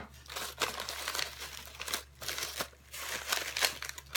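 Scissors cutting through broomstick bristles on a witch's broom goodie bag, a run of close, crisp crinkling snips and rustles at fairly low volume.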